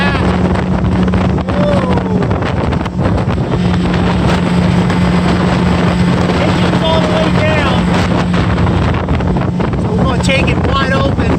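A 2017 Hurricane FD226 deck boat launches hard from a standstill, its outboard droning loudly and steadily beneath heavy wind buffeting and water rush, with a brief dip partway through.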